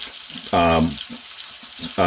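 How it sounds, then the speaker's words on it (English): Steady hissing sizzle of leg of lamb steak frying on medium heat in a cast iron pan fills the clip, close up, while someone talks over it. "I've got this cooking on medium, and you notice I'm using a cast iron"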